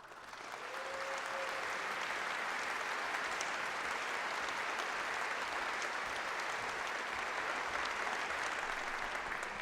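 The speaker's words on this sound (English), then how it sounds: "Your enthusiastic applause, your bravos, your whistles" Applause from a concert-hall audience at the American Pianists Awards gala finals, a broad, sustained roar of many clapping hands that swells in within the first second and holds evenly throughout, with no talk over it.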